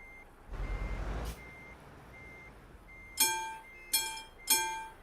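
Truck reversing alarm in a trucking video game, a steady series of evenly spaced beeps across the clip, mid-level and alone, with a brief hiss burst early on and three louder clanking hits near the end.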